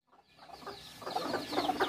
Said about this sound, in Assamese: বহুতখিনি আছে আমাৰ মুৰ্গী, এইকেইটা পোৱালি নতুনকৈ ওলাইছে